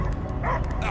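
Cosmo, the space dog in the Guardians of the Galaxy video game, barks and yips in short bursts over a low rumbling game soundscape, close and fairly loud.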